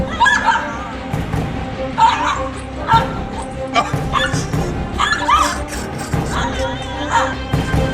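Stray dogs at a municipal vaccination drive in Chalakudy bark, yip and whimper in repeated bursts, fairly close, over a busy background with some voices.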